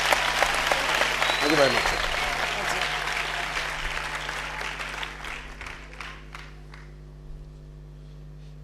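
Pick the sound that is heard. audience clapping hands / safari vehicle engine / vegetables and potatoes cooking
audience clapping hands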